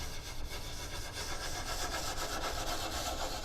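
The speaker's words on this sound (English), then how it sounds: "I'm just going to lightly sand" Light wet sanding by hand on carbon fiber diffuser fins from an Acura NSX NC1, a steady continuous rasping rub with soft rhythmic strokes, close and fairly quiet, with no voices.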